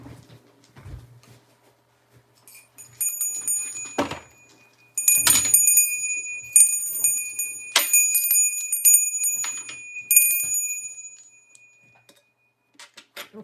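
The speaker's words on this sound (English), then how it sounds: "Where's my little bell?" A small hand bell rings several times in short bursts, each strike bright and shimmering with a lingering ring. Quiet rustling and handling noises fill the gaps between rings.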